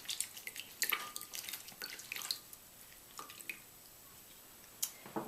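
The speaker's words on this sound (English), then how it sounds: "I am going to add a little bit more lemon juice." Lemon juice drips and splatters from a wooden hand juicer, a string of small, irregular wet taps and splashes close by, with quiet gaps between them and no talking.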